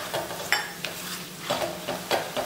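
Kashmiri chili powder being stirred into lemon pickle in a pan, giving soft repeated scraping strokes of a spoon against the pan with a faint sizzle beneath, close and fairly quiet, with no talking.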